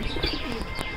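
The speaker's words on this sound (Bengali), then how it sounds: "চলেন দর্শক আমরা আরেক পেয়ার কবুতর দেখাই" Pigeons kept at a pigeon seller's place, including Afsan Grizzle birds, cooing in soft low calls that come close, with a few chirps mixed in and no talk.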